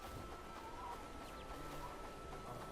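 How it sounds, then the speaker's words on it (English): Little chicks in a survival video game, soft scattered clucks and peeps over a quiet ambient bed, faint and close. "Little chicks running around everywhere"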